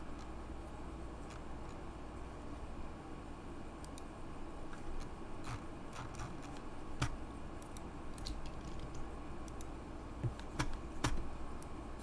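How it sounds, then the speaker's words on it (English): Fast computer keyboard typing, quick irregular clicks and taps close by over a low steady background hum, with no talking. "Feverishly typing in Google News."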